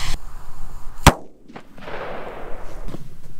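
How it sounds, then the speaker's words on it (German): A Sauer cannon-shot firecracker goes off in one sharp, loud bang outdoors, followed by a brief rumbling echo and quieter background noise. "Ich habe da die 3 Kanonenschläge von Sauer"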